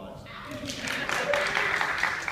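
A conference audience claps for a core team member, the applause building into a steady, moderately loud wash of many hands over a few seconds while a voice starts talking underneath.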